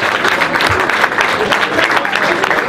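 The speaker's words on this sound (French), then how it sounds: "Vous pouvez vous applaudir." Audience applauding at a post-match football gathering with players and supporters, a steady dense burst of clapping that fills the room, loud and continuous throughout.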